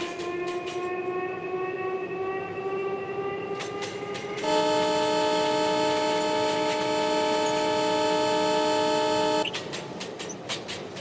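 A Mumbai local EMU train in a mobile train game rolls along with a steady rumble. A long, loud, two-tone horn blast sounds partway through, after an earlier fainter horn tone.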